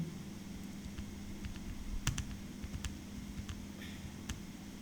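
Faint, sparse keystrokes and clicks on a computer keyboard over a steady low hum, with light irregular taps and a slightly louder click near the middle, and no talking.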